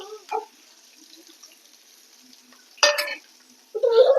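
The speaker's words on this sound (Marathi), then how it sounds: "इथं आपण एक कांदा इथं फोडणी टाकलेला आहे कांदा थोडा लाल होता आला" Onion dropped into hot oil for tempering in a wok sizzles in two short bursts, with near-silence before and between them, and a stronger sizzle at the end.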